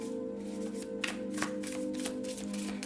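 Tarot cards being shuffled by hand, a quick run of soft riffling flicks and taps repeating over a few seconds against a faint steady hum, close and fairly quiet.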